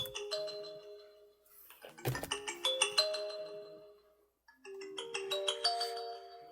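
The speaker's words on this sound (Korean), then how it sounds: "네, 전화가 왔네요." A phone rings during a lecture, its melodic electronic ringtone playing in two clear bursts separated by a brief silence, with no talking.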